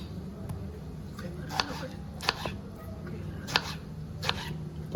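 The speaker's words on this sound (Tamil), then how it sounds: "இப்போ தக்காளியை எடுத்து வெட்ட போகிறோம்." Knife chopping tomatoes on a board while cooking a Malaysian biryani, a few sharp sparse cuts spaced about a second apart over a soft background hum.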